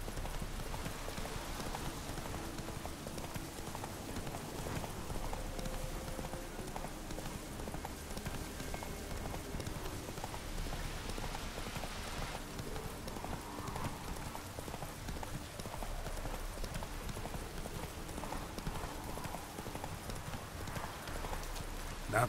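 Roach the horse galloping in Witcher 3, a quick, steady clip-clop of hooves that runs continuously and fairly loud over a wash of background game noise.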